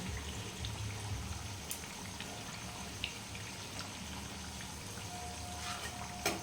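Potato chops fry in hot oil. A soft, steady crackling sizzle runs throughout at low level, with occasional small pops and a faint clink of a utensil.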